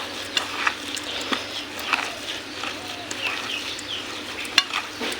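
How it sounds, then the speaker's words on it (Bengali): Poultry feed for ducks and chickens is mixed by hand with hot rice starch water, giving close, wet, squelching stirs and scattered soft clicks at an irregular pace. "গরম গরম ভাতের ফেনা দিয়ে মেখে নেব।"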